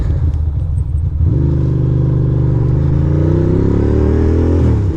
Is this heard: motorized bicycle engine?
yes